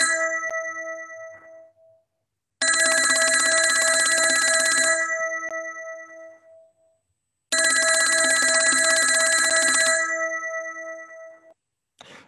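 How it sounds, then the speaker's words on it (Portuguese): A synthesized telephone bell, modeled in Pure Data through physically informed synthesis, rings in two long bright metallic trills separated by silence, each with a clanging tail fading out. "o que vem aqui é toda a programação em Pure Data que gera um som de sinos de campainha de telefone"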